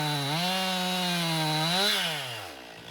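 Chainsaw cutting firewood, a close, continuous buzzing drone that bogs slightly in the cut, then lifts and fades as the saw comes free.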